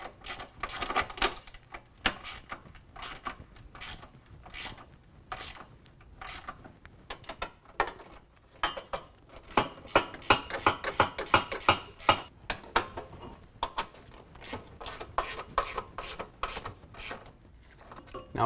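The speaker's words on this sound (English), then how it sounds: "Now we're going to go through and tighten up all of our pinch weld bolts. It's going to be a 13mm socket and ratcheting wrench." A ratcheting wrench with a 13mm socket tightens pinch weld bolts while mounting nerf bars on a 2017 Chevy truck: rapid clicking ratchet bursts in irregular runs, close and fairly loud, with brief pauses between strokes.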